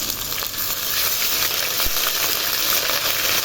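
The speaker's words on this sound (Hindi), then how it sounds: "अभी इसमें ये लहसुन अदरक हम ऐड कर देते हैं।" Garlic ginger paste sizzles and fries in a pan of oil for chana pulao, a loud, steady crackling hiss with a faint clink partway through.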